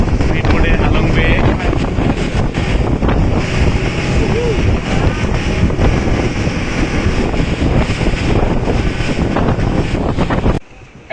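A speedboat runs across Halong Bay with a loud, constant roar of engine, hull slap and heavy wind buffeting the microphone, cutting off abruptly near the end.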